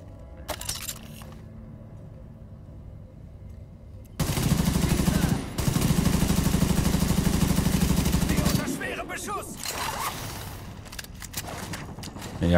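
Loud, sustained automatic gunfire in the shooter The Division 2 erupts after a quieter stretch, hammers steadily for several seconds, then trails off into scattered shots and clatter, with a voice talking.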